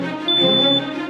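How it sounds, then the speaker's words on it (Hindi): A kitchen smoke alarm, set off by oil overheating in a kadhai, sounds a steady high tone over a busy background. "ये हमारी रसोई में लगा धुएं का अलार्म है।"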